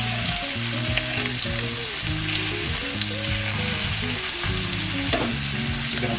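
A pork chop sizzles in a pan over medium heat, a loud, continuous crackling fry with steady spitting and no voices.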